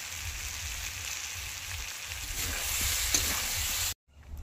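Tomatoes fry in a pan, a dense close sizzle with brief scraping stir strokes near the end before it cuts off abruptly.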